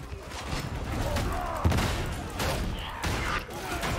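Shotgun fire in Warhammer 40,000: Darktide, with repeated booming blasts in a dense, continuous battle din and a sharp louder shot near the middle.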